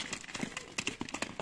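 A horse trots over ground in a quiet rural setting, its hoofbeats coming as faint, rapid, rhythmic thuds at a distance.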